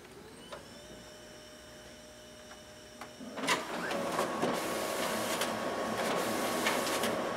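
A Ricoh SP5200s copier's document feeder pulls test copies through, starting with a faint hum and clicks, then a louder steady whirring feed that runs continuously at close range.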